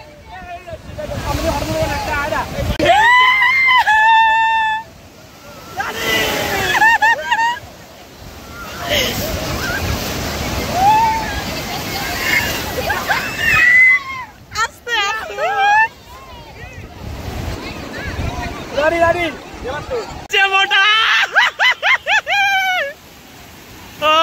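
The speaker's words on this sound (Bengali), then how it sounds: "ঢেউটা আসছে দেখ রানী, ওই ঢেউটা আসছে দেখ ভাই সাব" Ocean surf breaks on the shore at Puri beach in bursts of washing noise, half-buried under loud crowd chatter, nearby voices talking and occasional bird calls.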